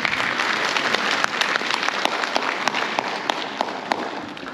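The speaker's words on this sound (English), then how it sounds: "I think you need to give yourselves a round of applause" An audience at the 2024 UK–Zimbabwe business expo breaks into dense, sustained applause, many hands clapping at once with sharper individual claps standing out, loud and continuous with no speech over it.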